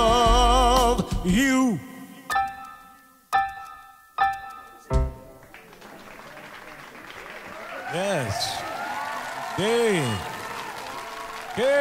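An audience at a tribute show claps and applauds in steady rhythmic bursts after a song, with sharp separate claps early and a singer's voice and band phrases heard over the crowd.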